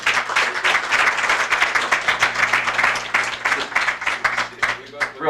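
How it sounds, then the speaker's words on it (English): A luncheon crowd at a chamber of commerce event applauds a state senator, a loud, steady spell of many hands clapping that carries on for several seconds, with a voice speaking over part of it. "Another round of applause for Senator Testa."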